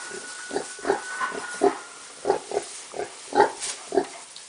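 A pig grunts repeatedly in short, close snorts, about two per second, with brief pauses between; no talking.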